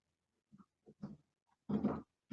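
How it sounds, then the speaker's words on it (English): A dog barks faintly in the background, a few short irregular yaps spread across a couple of seconds, quiet and distant with no talk over it. "I hear a dog."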